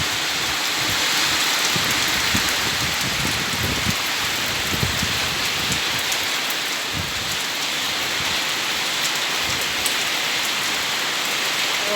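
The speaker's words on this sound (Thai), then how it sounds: "ฝนทั้งฝนทั้งลมเลย" Heavy rain driven by wind, a dense continuous patter pounding on surfaces close by, with scattered louder drops and low gusty rumbles beneath, no one speaking.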